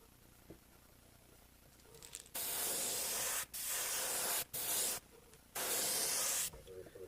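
Four loud, sustained bursts of aerosol spray from a can of Testers pearlized white paint coat a fishing lure, each hiss lasting about a second, with a faint background voice in the quieter stretches.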